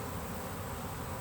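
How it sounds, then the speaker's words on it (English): Honey bee swarm clustered around a bee vacuum's exhaust, a dense continuous buzzing drone from many bees close by, steady throughout with no talking. "They were swarming the vacuum exhaust"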